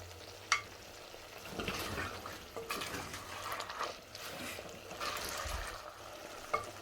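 Sweet chili sauce stirred into paneer and capsicum in a pan, faint sizzling with soft scraping and clinks of the spoon, fairly quiet throughout.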